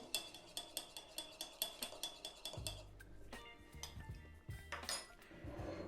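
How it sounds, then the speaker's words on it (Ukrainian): Shredded cabbage salad is mixed in a bowl. About a dozen evenly spaced clinks of a utensil against the dish are followed by quieter scraping and tossing, close up, with no voices. "Тепер це все знову ж таки перемішуємо."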